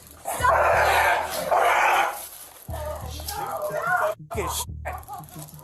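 A dog barks and growls in played true crime footage, loud bursts near the start, mixed in with shouting voices and pleading people that continue throughout.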